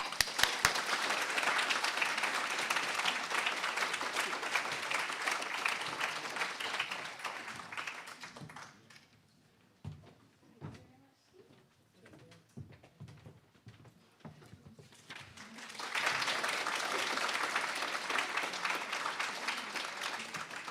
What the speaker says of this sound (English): please give a huge round of applause for Dee Barton.